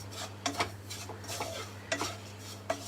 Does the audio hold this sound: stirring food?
yes